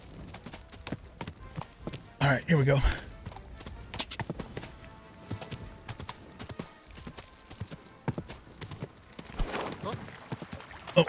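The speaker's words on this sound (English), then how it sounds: "I'm not used to the controls on the horse." Horse hooves clop at a quick, uneven pace while riding in the video game Kingdom Come: Deliverance 2, with brief louder bursts and someone talking over it.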